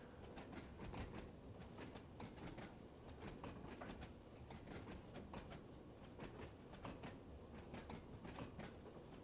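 Train clanking and rattling in Train Sim World 2 on the Isle of Wight Island Line, a steady, dense rolling rumble broken by repeated sharp clicks and clacks of wheels over rail joints throughout, with no talking.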